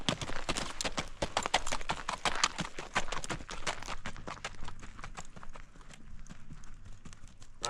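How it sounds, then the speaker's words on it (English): A Fox Trotter horse's hooves clop in a steady flat foot walk on a trail, crisp regular beats close by that soften slightly toward the end. "This is the flat foot walk."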